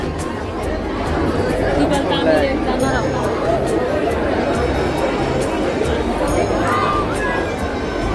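Dense babble of many wedding guests talking at once over a meal, steady and close, with occasional clinks of dishes mixed into the hubbub.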